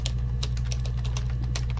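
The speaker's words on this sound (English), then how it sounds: "I want to just type in suspicious here." Keystrokes on a computer keyboard tapping in a quick irregular burst of clicks, close and clear over a steady low electrical hum, with no talking.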